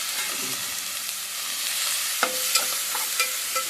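Capsicum, onion and tomato frying together in a pan, a loud, steady hissing sizzle with a few sharp stirring clicks near the end, no one speaking.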